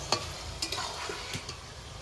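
Fish and bottle gourd stirred in a hot pan, with a few sharp spatula scrapes and knocks over a low background sizzle across two seconds, no talking.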